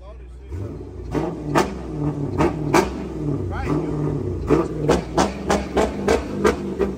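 A Dodge Challenger Hellcat engine revs in repeated bursts, rising and falling in pitch, close by, with voices talking over it.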